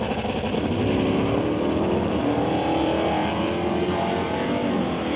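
A Dodge Dart and an Oldsmobile Cutlass in a drag race, loud sustained engine roar with a steady broadband rumble and a rising pitch under acceleration, heard from trackside.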